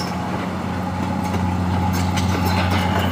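Heavy machine's engine running with a steady low, throbbing idle drone, loud and close, with no talk over it.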